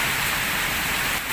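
Steady, even hiss of light rain falling, continuous and close, with no voices.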